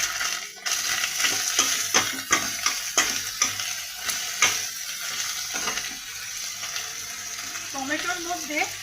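Tomatoes sizzle and fry in a pan with ginger paste for a pea-lentil fritter curry, a steady close hiss broken by repeated sharp scrapes and knocks of stirring.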